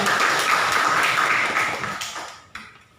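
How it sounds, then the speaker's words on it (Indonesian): Classroom applause during a lesson: a dense patter of clapping hands that holds steady for a couple of seconds, then tapers off with one last clap. "tepuk tangan dong"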